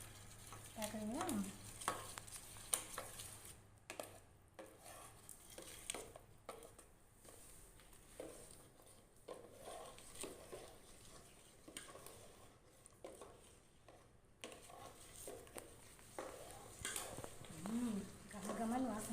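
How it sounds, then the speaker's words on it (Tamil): Spoon stirring athirasam dough in a pan, soft repeated scraping and faint sizzling over roughly twenty seconds, with someone talking in Tamil over it. "நல்லா கிளறிட்டு இப்போது நம்ம அதிரசத்துக்கு மாவு பண்ணி போகிறோம்."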